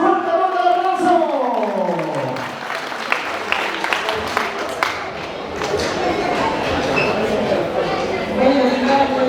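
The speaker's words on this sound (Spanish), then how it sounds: "Recibimos con un fuerte voto de aplauso." Audience applause greeting a speaker at a Yaycupacuy family celebration for godparents, steady clapping from a crowd with a voice speaking over the start and some cheering mixed in.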